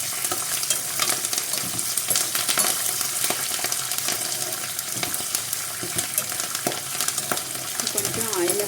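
Grated raw mango, dried red chilies and curry leaves sizzle in hot oil, giving a dense, steady crackling fry with occasional clinks and scrapes of a stirring spoon.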